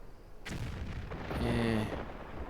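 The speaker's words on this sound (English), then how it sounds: "What happens if I just shoot a normal grenade from here?" A grenade fired in Tomb Raider 4 Remastered bursts with a sharp onset, then a heavy booming explosion rolls on for about two seconds, with faint game tones ringing underneath.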